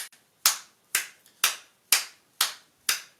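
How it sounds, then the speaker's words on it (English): Slow, evenly spaced hand claps, about six or seven sharp, isolated strikes roughly half a second apart, close and clear with silence between them. "I want you to clap for yourself"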